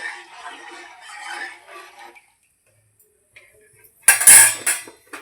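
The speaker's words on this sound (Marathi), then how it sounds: "तर ते मिक्स करून घेऊ पाण्यात" A spoon is stirred through hot water mixed with papad khar, cumin and oil in a pot, a quiet stretch ending in a short burst of close, bright metallic clinking and scraping.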